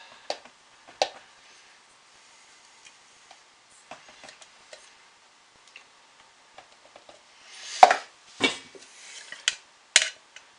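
Leftover soap being mixed together in containers during soap making: sparse, quiet clicks and light taps of a utensil against containers, with a few louder scraping clinks clustered near the end.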